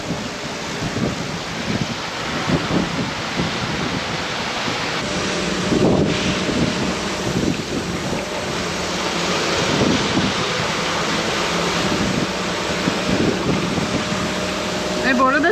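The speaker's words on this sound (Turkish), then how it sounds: "Yine 30'lara dayandı rüzgar." Strong wind near 30 knots roars across a sailboat in the South Atlantic under mainsail alone, with steady broadband gusting and wash of waves, loud and continuous throughout, while voices occasionally talk over it.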